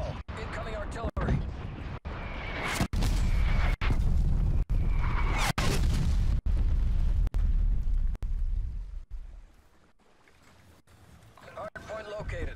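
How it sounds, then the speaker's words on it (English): Incoming artillery shells in the video game Call of Duty: Black Ops land as a rapid string of loud, booming blasts that repeat roughly every second, with heavy low rumble and rattling debris between impacts. "Artillery targeting detected. Net call. Incoming artillery."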